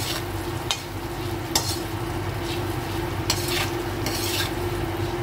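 Sliced medium onions stirred into masala in a pan for an arbi-onion dish, a steady close sizzle with a few sharp spoon scrapes and clatters against the pan, no voices.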